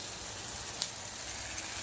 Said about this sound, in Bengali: টমেটোটা একটু ভাজা ভাজা হয়ে গেছে